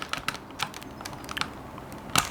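Keys clack on a budget mechanical gaming keyboard, irregular close typing with scattered crisp strokes and a final cluster of quick presses.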